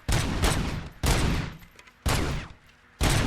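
Gunfire from a weapon being calibrated in Robocop: Rogue City, four loud, heavy bursts of shots about a second apart, each cutting off abruptly with no talking.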